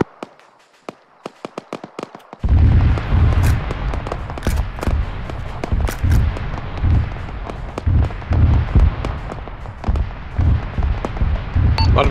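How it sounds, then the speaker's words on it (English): Explosions going off in the center of a town in the Arma 3 military game, a burst of sharp distant pops at first, then a heavy rumbling barrage with repeated loud booms and crackling impacts. "A lot of explosions going off in the center of town."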